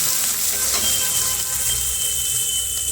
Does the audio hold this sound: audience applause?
no